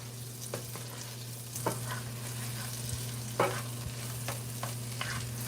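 Lobster tail meat sautéing in a pan with curry and vegetables gives a steady gentle sizzle under a low constant hum, broken by several soft spoon scrapes and stirs at irregular intervals.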